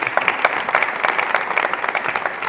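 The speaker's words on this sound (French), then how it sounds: "Applaudissements pour lui, je vous prie." Studio audience applause for a performer on a French-language TV show, steady, moderately loud clapping from many hands that continues evenly without voices.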